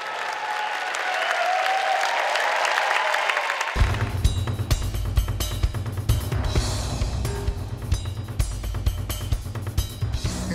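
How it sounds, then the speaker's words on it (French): A packed Las Vegas theatre audience applauds Cirque du Soleil's O show in a dense, steady burst for about four seconds, then music takes over and carries on alone. "3600 touristes applaudissent le show d'1h30."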